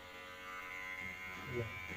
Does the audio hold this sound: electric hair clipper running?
yes